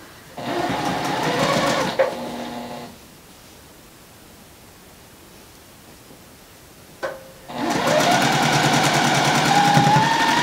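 A sewing machine stitches quilt block strips in two loud, steady runs, one early and one late, with a quiet pause between them where the work is flipped to sew from the opposite side.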